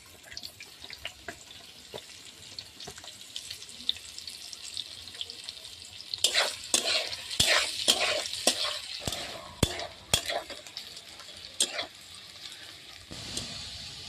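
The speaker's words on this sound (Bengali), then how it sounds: "দিয়ে আমি পেঁয়াজের বেরেস্তাটাকে ভেজে নেব" Chopped onions fry in mustard oil in a pan for a chicken dish, with a soft continuous sizzle under repeated sharp scraping and stirring clatters that grow busier in the second half.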